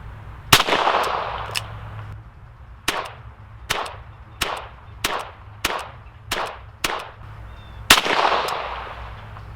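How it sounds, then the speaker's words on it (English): Diamondback Sidekick .22 revolver fired outdoors at a 15-yard target, about ten sharp, loud cracks spaced roughly a second apart, each with a short ringing tail, no talking. "We're only shooting 15 yards here"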